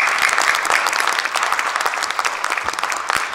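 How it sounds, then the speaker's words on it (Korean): A church congregation applauds to welcome a pastor at a New Year fasting prayer service, a dense, steady wash of clapping that carries on for the whole stretch. "우리 환영의 박수로 모시겠습니다"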